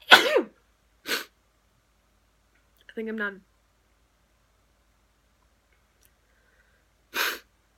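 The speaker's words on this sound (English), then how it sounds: "I'm gonna sneeze again." Three sharp sneezes burst out, spaced apart, with a brief spoken phrase between them and silence around each one.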